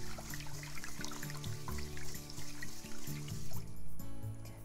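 Rice grains being stirred gently in rinsing water in a pot or bowl, a soft close swishing and trickling of water with faint clinks, quiet and steady.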